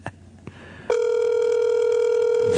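A telephone line sounds: a couple of short clicks, then a loud, steady electronic ringing tone begins and holds on without a break.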